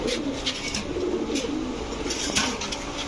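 A pair of Rajgolla pigeons, a crestless male and a colored female, coo softly in low, repeated rolling calls close by in a loft with a faint background hum.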